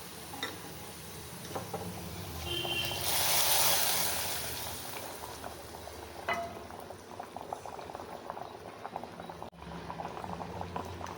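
Sautéed masala for mutton curry poured into a pot with a brief rushing splash, then a close, continuous bubbling boil with soft irregular pops and ticks, no speech.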